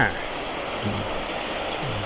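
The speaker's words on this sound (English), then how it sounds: "Getting some water pumped in." Water rushes steadily into a canal lock at Caen Hill Locks, Devizes, a continuous broad hiss like a stream or weir, fairly close and even throughout, with faint low voices underneath.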